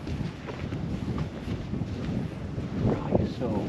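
Wind buffeting a microphone outdoors beside a stone monument at night, a low rough rumble gusting unevenly under quiet talk.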